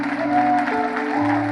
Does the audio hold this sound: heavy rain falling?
no